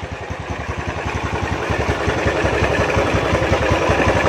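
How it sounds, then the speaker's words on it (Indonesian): A Honda Tiger motorcycle engine idles roughly up close, a steady uneven chugging with clattery knocks throughout. "mesinnya ini suaranya kasar, kemerutuk, ya ada krusung-krusungnya"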